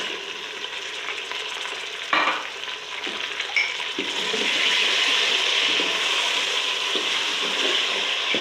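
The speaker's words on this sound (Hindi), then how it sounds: "और भून लेती हूँ अच्छी तरह से।" Tomatoes fry and sizzle in a pan for a mutton curry, with a spoon scraping and stirring through them now and then, the sizzle growing louder and steadier partway through.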